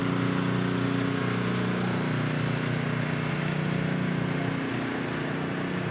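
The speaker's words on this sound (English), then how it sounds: "Got their generator going" A fire department generator runs steadily at a nighttime Christmas parade of lights beside a brush truck, a continuous close, loud engine drone with a constant hum throughout and no talking.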